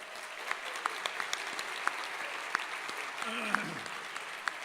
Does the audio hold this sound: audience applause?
yes